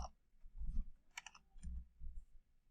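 A computer keyboard clatters as a T-SQL command is typed in, a short quiet burst of a few soft keystrokes and clicks heard close up in a still room.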